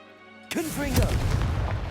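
After a half-second of quiet game music, a Confringo spell in Hogwarts Legacy bursts into a sharp blast with a rumbling, crackling fiery tail that fades out.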